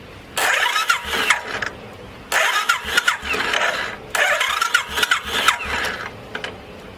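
Royal Enfield Classic 500 motorcycle electric self-starter cranking the engine in three separate bursts, each a whirring churn lasting a second or two with brief pauses between, close and fairly loud.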